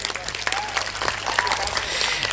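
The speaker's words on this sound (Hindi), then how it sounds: "एक बार जोरदार ताली बजाइए।" An audience claps in a burst of applause at a public speech, dense scattered hand claps with crowd murmur and a few voices mixed in over a steady background.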